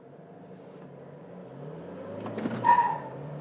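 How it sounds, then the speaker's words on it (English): A Toyota Fortuner with a manual gearbox spins its wheels in second gear, its engine note swelling into a loud rev with a brief squeal of tyre spin before settling back. "you can easily perform second gear wheel spins quite easily even before the red line is achieved"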